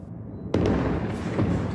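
An explosion booms through the streets of Gaza City, a sudden loud blast that echoes and rumbles on for over a second above a low background hum.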